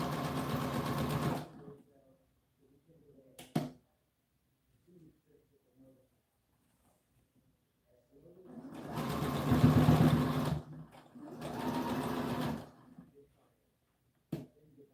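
A sewing machine stitching an American Girl doll dress runs in three bursts, one short near the start and two longer ones later, close and loud, with quiet handling noises between.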